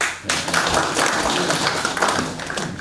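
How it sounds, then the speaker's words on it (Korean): An audience at a town hall meeting with residents claps together, a dense steady patter of many hands that fills the room for a few seconds. "박수 한번 쳐주세요."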